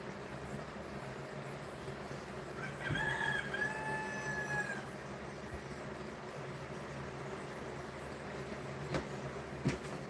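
A rooster crows once at a distance, a short rising call partway through, over steady outdoor background noise from a rural property where guineas and chickens are kept.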